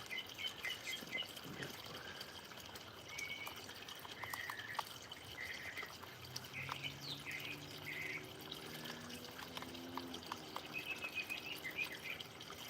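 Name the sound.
birds chirping and singing outdoors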